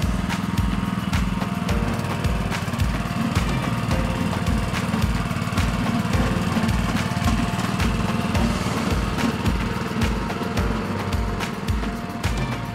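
A small garden tiller engine runs steadily at a high, buzzing pitch with a rapid rhythmic chug, loud and close, with no talk over it.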